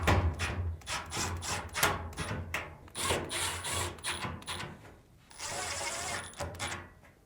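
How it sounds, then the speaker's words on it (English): Screws being driven back into a Samsung dryer with a ratcheting driver, a close series of rapid clicking ratchet bursts separated by short pauses, ending in a longer continuous spin. "Now, reinstall the 4 screws."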